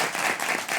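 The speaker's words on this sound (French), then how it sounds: "je vous demande d'applaudir aussi" Brief burst of audience applause at a French television show, loud and steady throughout the short moment with no talk over it.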